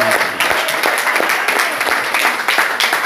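A congregation applauding women at a church worship gathering, a dense, steady patter of many hands at close range, loud and continuous throughout.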